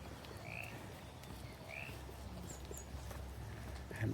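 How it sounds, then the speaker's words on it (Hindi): Frogs croak in the evening at Werribee Zoo, where lanterns light the grounds. Several short croaking calls repeat irregularly over a steady low outdoor hum, at moderate distance. "मेंढकों की आवाज़।"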